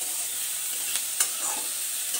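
Onions frying in a pan, a quiet, steady sizzle with a couple of brief stirring scrapes close at hand.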